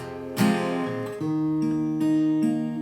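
Plucked guitar chords from a song ring out one after another in a steady fingerpicked pattern, clear and close, with no voices.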